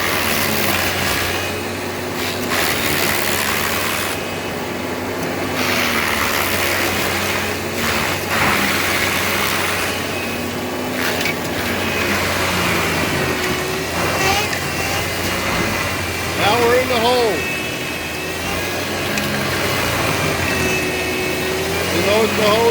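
A stump grinder chewing through the stump of a tall blown-over tree, a steady loud mechanical drone running throughout with brief surges, while people talk over it.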